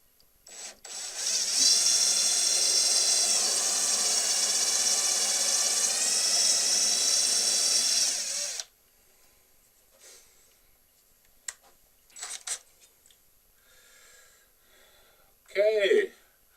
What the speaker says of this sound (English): now all my 10mm holes are drilled